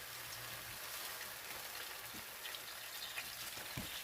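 Turkey bacon sizzling in hot oil in a pan, a steady soft crackle and hiss with a few small pops, quiet and close, no talk.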